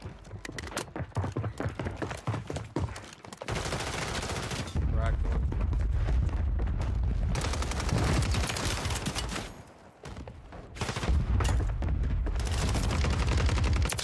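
Rifle fire from an online shooter game featuring the DTIR 30-06, loud bursts of shots and rapid gunfire in clustered volleys, with brief pauses between them and no talk over it.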